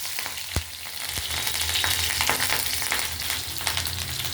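Garlic and green chillies drop into hot oil in a pan and fry with a loud, close, crackling sizzle, sharp pops bursting out at intervals over the steady hiss.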